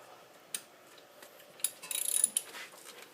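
Ratchet wrench fitted with a 15 millimeter socket loosens the fan belt on a 2003 Dodge Durango, a quiet click or two and then a rapid burst of close ratcheting clicks.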